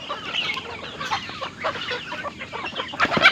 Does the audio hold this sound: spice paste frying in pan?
no